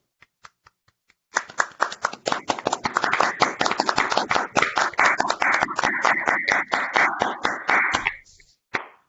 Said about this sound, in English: please go ahead and try to unmute yourself, and let's clap for Érika.